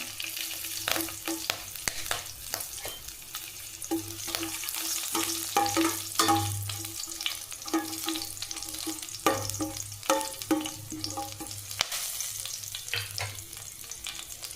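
Green chilli and dried red chillies fry in hot oil with fennel seeds for mutton gravy, giving a steady close sizzle with intermittent stirring scrapes and clinks.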